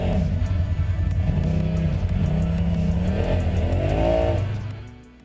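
A Polaris off-road vehicle reversing and then driving along a forest track, its engine droning close and loud with several rising and falling revs before fading out at the end.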